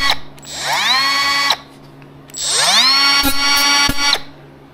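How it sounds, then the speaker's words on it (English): A handheld grinder spins up against a Cadillac bumper being fitted to a 1949 GMC roadster pickup, two loud sustained bursts of whining with rising pitch, separated by a brief pause, close and alone. "I'm gonna get a grinder, see if that thing sparks."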